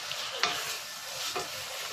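Tomatoes sauteing in a pan for mutton biryani hiss and crackle steadily while a utensil scrapes through them in two brief strokes, close and without voices.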